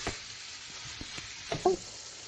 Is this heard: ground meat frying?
yes